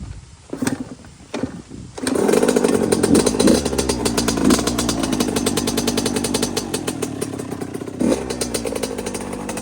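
A Yamaha YZ85 dirt bike is kicked over twice before firing up, then settles into a loud, rapid two-stroke idle with occasional throttle blips, close by.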